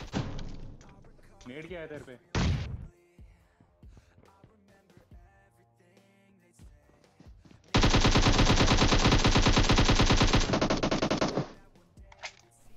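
M416 assault rifle fire in the video game PUBG: a long, loud, continuous automatic spray lasting several seconds. Earlier there are scattered thuds, short bursts and someone talking over the game sounds.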